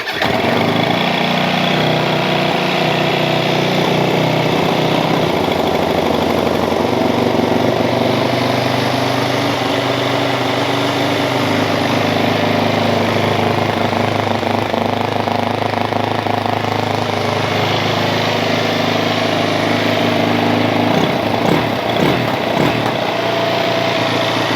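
A Yamaha WR 450 motorcycle engine starts from stone cold on full choke, then idles loud and close with a steady, buzzy drone for the whole stretch. The engine has a fresh carb rebuild.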